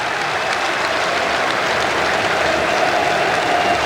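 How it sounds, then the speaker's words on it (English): Crowd at an Old Trafford cricket Test between England and India applauds and cheers as England reach 500, a broad steady roar of clapping spread across the ground and echoing through the stadium. "That cheer reverberates round Old Trafford."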